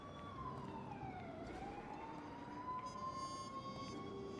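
An ambulance siren wails in a roleplay video game, its tone sweeping down and then rising again, faint and steady over a low rumble of background noise.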